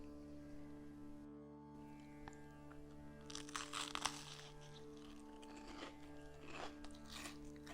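Crispy fried stuffed zucchini flowers with cheese filling crunch as someone bites in, followed by several close, crackly chewing crunches over a faint steady hum.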